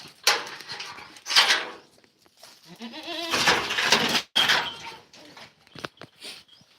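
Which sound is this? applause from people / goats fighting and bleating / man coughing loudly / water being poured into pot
goats fighting and bleating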